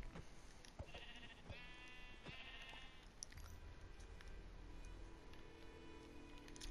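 A Minecraft sheep bleats twice in quick succession, clear and nearby, against a quiet hum with a few soft clicks.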